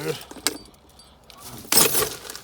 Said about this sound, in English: there's some keys.